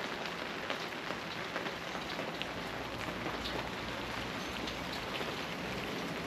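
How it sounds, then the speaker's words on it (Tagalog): Heavy rain in New Zealand pours steadily in a dense, continuous hiss, drumming on a nearby surface with no voices. "Ang lakas ng ulan eh."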